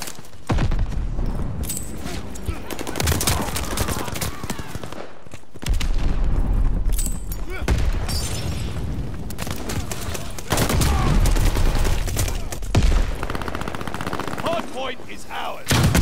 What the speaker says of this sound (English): Tossing hand grenade.